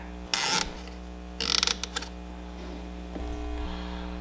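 Metal tie rod nut thrown into a spinning HVAC blower fan: a steady fan hum with two loud bursts of rattling, grinding clatter, a few trailing knocks, then a shift in the whirring.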